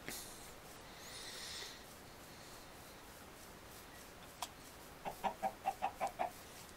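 A chicken in a video game clucks in a quick run of about six short, evenly spaced clucks near the end, following a quieter stretch with a faint brief call earlier.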